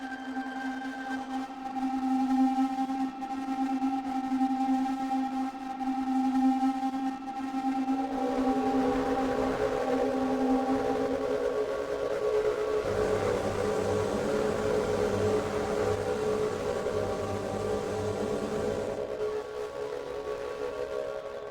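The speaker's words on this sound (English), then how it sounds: "This is a roguelike that you can play, but it generates essentially an experimental noise performance." Experimental noise performance generated by a roguelike video game, droning electronic tones that shift midway into a thicker, grinding siren-like roar, continuous and moderately loud for over twenty seconds with no voices.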